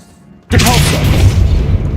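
A Depulso spell cast in Hogwarts Legacy erupts after a moment of near quiet as a sudden loud blast, followed by a sustained, roaring rush of force that stays strong to the end.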